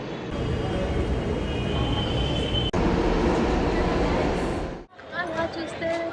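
A metro train at KR Puram metro station rumbles loudly and steadily past on the rails, then the roar cuts off abruptly near the end, leaving quieter station ambience with voices.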